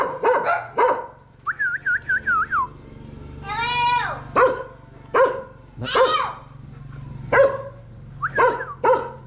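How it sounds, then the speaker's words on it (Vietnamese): A dog barks repeatedly in short bursts at a home gate, with whimpering yips mixed in, moderately close, while a voice speaks between the barks. "Thôi, ra đuổi chó cho chú cái."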